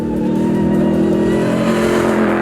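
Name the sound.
Ram TRX pickup truck with Hellcat engine revving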